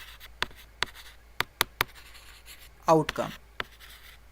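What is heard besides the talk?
writing on a board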